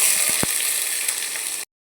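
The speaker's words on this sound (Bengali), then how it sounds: "পেঁয়াজ লঙ্কা দিয়ে দেবো।" Onion and green chili hit hot oil in a pan with a loud, close sizzle and a couple of sharp clatters before the sound cuts off abruptly.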